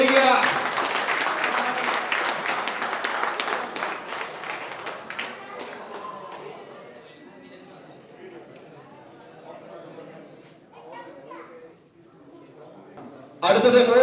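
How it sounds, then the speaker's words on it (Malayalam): Applause and clapping from a crowd at a pigeon racing tournament prize distribution in Pirayiri, Palakkad, loud and dense at first, then thinning to scattered claps and chatter before a sudden loud burst at the end. "കൈയടിക്കുക കൈയടിക്കുക."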